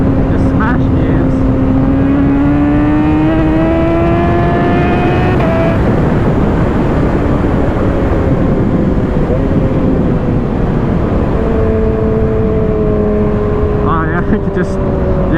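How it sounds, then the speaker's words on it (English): A Kawasaki ZX-6R motorcycle accelerates hard through the gears, its engine note climbing steeply, dropping at a shift midway, then rising again, loud and close, with a voice talking over it. "Just, yeah, roll on, smash gears, and it'll go fast."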